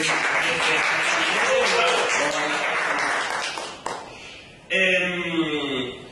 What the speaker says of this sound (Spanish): Así que bueno, un aplauso para ellos.